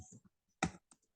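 A few quiet, separate keystrokes on a computer keyboard, faint close clicks in irregular rhythm with short pauses between taps.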